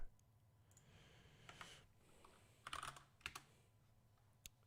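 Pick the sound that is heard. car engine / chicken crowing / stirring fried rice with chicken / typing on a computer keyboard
typing on a computer keyboard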